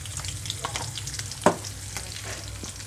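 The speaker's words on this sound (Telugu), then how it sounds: "పచ్చిమిరపకాయలు అనేవి ఇక్కడ ఆయిల్లో కొంచెం వేగాలండి" Green chillies, curry leaves and turmeric frying in oil for a dal tempering, a close steady sizzle with stirring scrapes and one sharp clack partway through.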